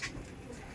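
A domestic pigeon coos once, soft and low, in a brief, faint snippet with no one speaking.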